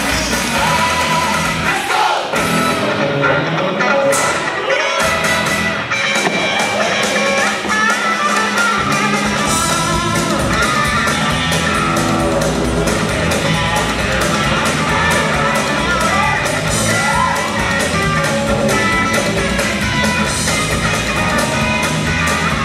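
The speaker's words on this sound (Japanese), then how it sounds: "皆さん拍手お願いします" Loud, continuous crowd noise with yells and whoops at a yo-yo showcase during the Japan Nationals, a dense roar of voices filling the whole stretch.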